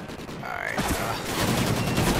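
Gunfire in the Call of Duty: Ghosts campaign mission Homecoming, a dense continuous barrage of shots and blasts building loud through the clip, with a voice speaking briefly underneath.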